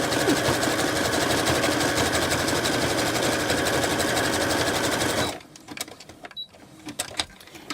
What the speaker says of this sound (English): Love the sound of the sewing machine.